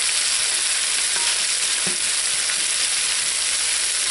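Onions and peppers sizzle and fry steadily in a pan for a breakfast casserole, a constant close hiss with a few faint stirring clicks and no talking.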